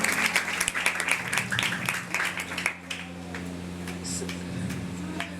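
An audience at a stage event applauds, dense clapping that fades after a few seconds, leaving a low steady hum.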